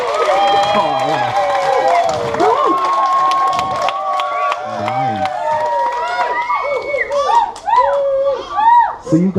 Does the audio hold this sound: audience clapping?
yes